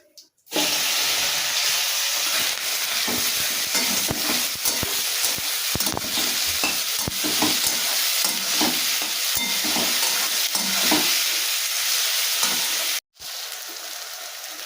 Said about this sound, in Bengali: সেই পেঁয়াজটা আমি তেলের ভেতরে দিয়ে দেবো